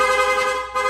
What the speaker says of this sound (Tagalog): Okay, rapid horn.